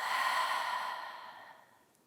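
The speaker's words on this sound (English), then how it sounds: "Open mouth exhale" A single open-mouthed exhale during a yoga practice, a soft breathy rush of air close to the ear that holds for about a second and then trails off into quiet.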